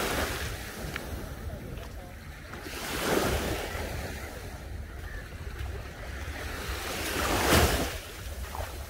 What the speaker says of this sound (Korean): 파도는 변함없네요.